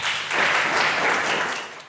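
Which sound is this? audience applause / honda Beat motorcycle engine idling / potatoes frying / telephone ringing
audience applause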